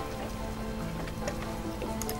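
Rain falling in the video game Lost Horizon: a steady, even patter of rain at moderate volume, with faint sustained tones running underneath and no talking.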